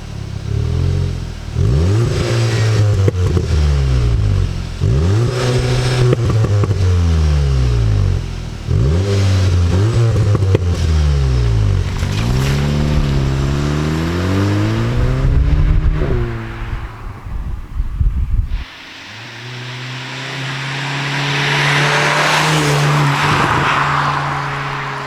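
A 2019 Volkswagen Golf R Mk7.5 hot hatch heard from outside as it revs and accelerates through repeated rising gear pulls, each upshift dropping the pitch, then a harder, rougher launch near the end, loud and close.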